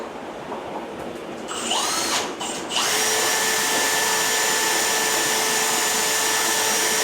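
Power drill boring holes in a plastic aquarium part for an airline and cable tie, revving up briefly, then running at a steady high whine for several seconds, close and loud with no talk.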